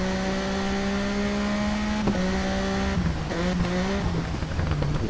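Motorbike engine held at low throttle while riding in the TT Isle of Man video game: a steady, close, buzzing drone with pitch dips and small revs around brief shifts, running on without talk.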